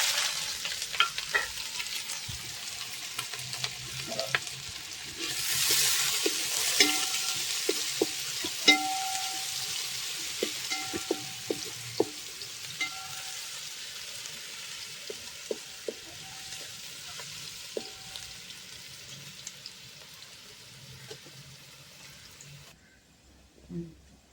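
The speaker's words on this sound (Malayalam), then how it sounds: "ഇപ്പോൾ ഞാൻ സവാള ഇട്ടിട്ട് വഴറ്റാൻ പോകും." Onions sautéing in homemade coconut oil for a traditional chicken dish, a steady close sizzle with frequent scraping spoon strokes across the pan and a brief louder burst of frying early on, no talking.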